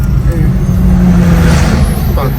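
Road traffic heard from inside a moving car on a road trip makes a loud, steady low rumble of engine and road noise. A horn-like tone sounds briefly in the middle.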